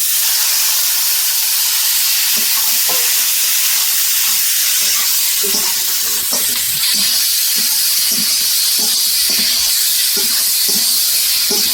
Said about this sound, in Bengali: এইভাবে এখন মাংসটা করতে থাকি অনেকটা মাংসটা কষিয়ে ফেলেছে